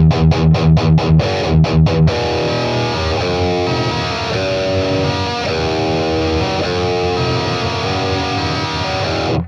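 Heavily distorted electric guitar through a BOSS Katana MK2 amp set for a thrash metal tone, opening with a run of sharp palm-muted chugs, then sustained chords and riffs ringing loud and dense to the end.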